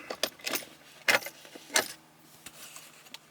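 Car keys jangle and clatter in the console tray of a 2022 Subaru BRZ, a few sharp metallic rattles spread out and then smaller clinks, fairly close with no talking.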